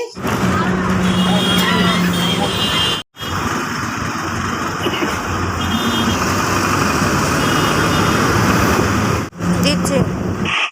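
A bus runs along BIP Road, its engine rumbling steadily amid traffic noise, loud and continuous with a few short breaks while people talk over it.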